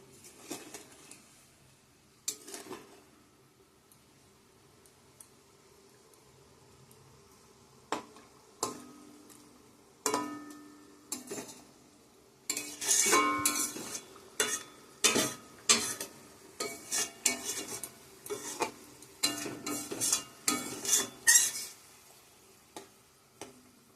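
Fish pieces go into a pot of boiling curry, with scattered soft knocks at first, then a busy run of clattering, spoon scrapes and splashes, close and moderately loud.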